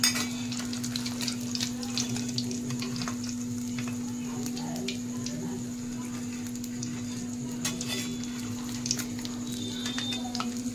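Bombay duck (loitta) fish in batter frying in a pan, a steady even sizzle running under a constant hum.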